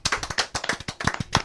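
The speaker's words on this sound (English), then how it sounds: "Why don't we give them all a round of applause?" A brief burst of hand clapping from a small audience, quick, uneven claps close by, with no voices.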